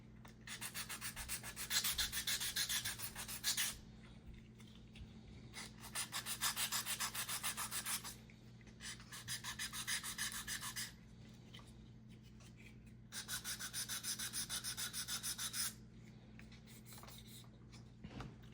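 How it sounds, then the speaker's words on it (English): Fine grit sandpaper rubs along the edges of deck planks in four separate bursts of quick back-and-forth strokes, each a few seconds long, close and clear over a low steady hum, with no talking. "Just take a fine grit sandpaper and sand these edges down."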